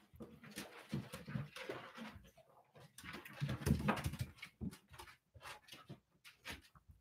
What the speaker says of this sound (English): My dog's like freaking out upstairs.